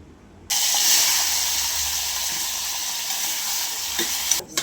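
Potato curry being tempered in a pressure cooker: a loud, steady sizzling hiss bursts in after a short quiet start and holds close and constant, with faint utensil knocks near the end.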